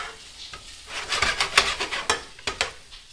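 Shrimp being stirred in a hot pan, irregular scraping and clinking of a utensil against the pan over a soft sizzle, close and moderately loud, with no talking.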